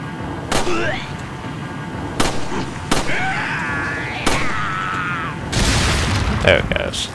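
Enemies fire at the player in Resident Evil 4 on PlayStation 4, loud sharp gunshots cracking out one at a time at irregular intervals over a noisy game backdrop, ending in a denser burst.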